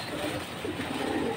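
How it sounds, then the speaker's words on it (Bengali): Fancy pigeon chicks in a coop give soft, low cooing murmurs, close and fairly quiet, over a dull background hum. "6 পিস পাঙ্কি কবুতরের বাচ্চা"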